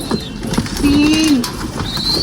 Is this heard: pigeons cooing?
yes